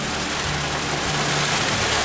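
Steady, dense hiss of rain falling at a beach in Trinidad, continuous and fairly loud throughout, with no voices.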